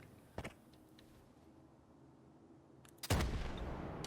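RPG rocket launcher in the shooter game STALKER 2, heard as a brief distant thud followed by a loud, close blast that roars and then rumbles away, with quiet ambience between the two.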